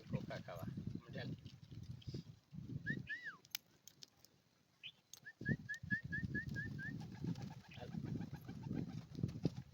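Pet pigeons in a home setup give soft, low cooing near and close by, with scattered thin chirps and clinks, while a person talks over them through most of the stretch.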